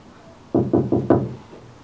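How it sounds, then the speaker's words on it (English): Four sharp knocks on a door, the first three evenly spaced and the last slightly delayed and strongest, close and clear against a quiet room with no voices. "I hear knocking at the south entry."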